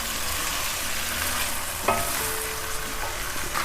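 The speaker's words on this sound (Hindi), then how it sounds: "ये प्याज के साथ ही फ्राई हो जाएगा" Chicken frying together with onion in a pan for gobhi gosht, a dense continuous sizzle with a brief stir or scrape partway through, close and loud with no voices.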